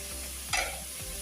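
Meat stock poured into a hot pan makes a brief sharp burst of sizzle over a low steady frying hiss, close and alone.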